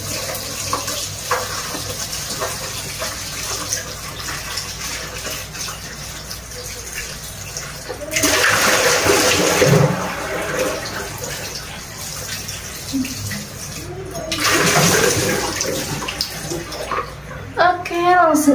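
Running tap water gushes over eggplants being rinsed in a home kitchen before boiling, a continuous splashing stream that swells louder twice as the vegetables are moved under it.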